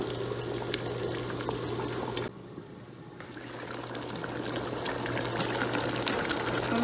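Nigerian egusi soup with fish bubbling in a covered pot, a continuous soft boiling simmer with a steady hum, briefly quieter midway and then rising again, no talk.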